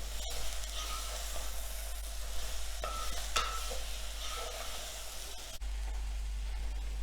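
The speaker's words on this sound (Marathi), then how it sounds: "आणि एकसारखं हलवून घ्यायचं आहे" Chickpea greens with a little rice being stirred in a sizzling pan, a soft continuous fry hiss broken by scraping spatula strokes and a few sharper clicks, close by, with no voices.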